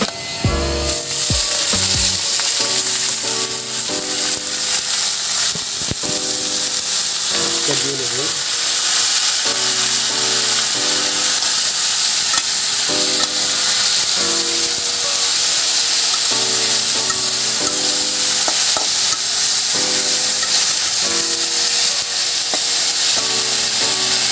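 Moringa leaves are added to onion, garlic and dried chilies frying in a pan, a loud continuous sizzle and crackle running throughout, with a rhythmic mechanical whir or clicking hum underneath and no talk.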